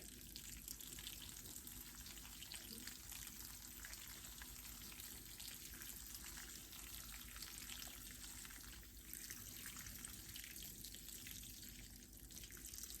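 Water poured steadily from a watering can over the top of freshly potted acacia cuttings, a continuous soft splashing and trickling that stays faint and even throughout, with no talking.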